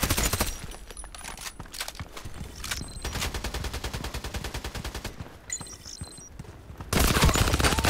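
Rapid automatic gunfire in the online shooter Contract Wars, dense bursts of rattling shots with brief pauses and a louder burst at the end, continuous and without speech.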